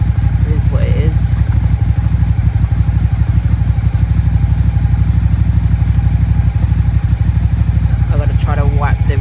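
A Suzuki SFV Gladius motorcycle idles steadily while warming up, its low engine rumble and rapid mechanical clatter running unbroken and close throughout, with a few faint higher noises near the end.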